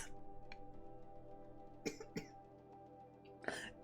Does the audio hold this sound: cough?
yes